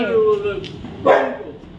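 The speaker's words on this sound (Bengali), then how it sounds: "ওই যে কুকুরটা ঢুকে যাবে কিন্তু ভেতরে" A dog barks once or twice at a household doorway, a short sharp bark after a stretch of voice-like whining, fairly close.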